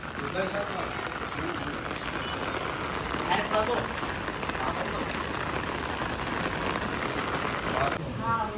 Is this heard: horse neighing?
no